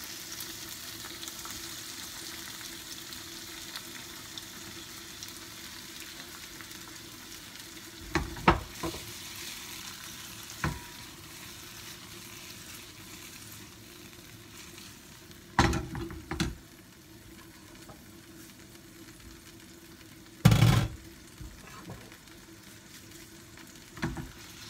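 Cherry tomatoes sizzle steadily in olive oil in a pan, a soft continuous frying hiss with a few sharp clinks and stirring knocks scattered through, fairly quiet and close.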